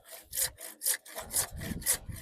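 A hand saw cuts through wood in quick rhythmic strokes, about five rasping pulls in two seconds, close and clear with no talking.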